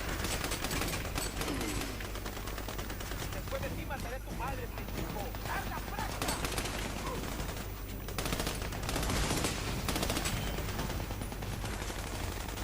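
Bursts of machine gun fire and scattered gunshots in a fight against a cartel in the video game Army of Two, rattling steadily across the scene amid game sound effects and a low background hum.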